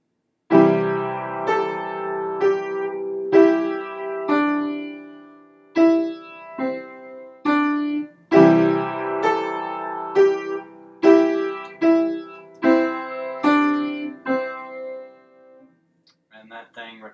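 Piano playing a song with both hands, a bouncy repeating pattern of chords and melody notes in steady rhythm, clear and close with no talking, ending in a few soft notes.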